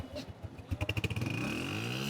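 A 2023 Honda 125 motorcycle self-starts: a quiet starter whirr and a few chugs, then the engine catches into a rapid, steady idle that settles and holds.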